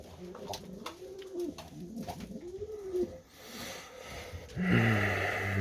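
Pigeons cooing in a coop during the evening, among them a young bird, with repeated soft close coos and rolling calls that rise louder near the end.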